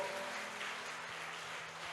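Church congregation applauding, a steady and fairly faint wash of many hands clapping together, with no voices over it.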